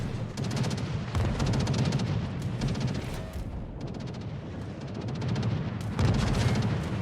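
Artillery shells fire and explode in a video game's battle, a continuous rumbling barrage of booms and crackling blasts heard from a distance, steady and dense with no speech.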